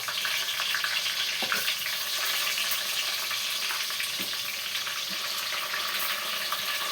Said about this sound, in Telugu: ఆనియన్స్ వేసుకుందాం.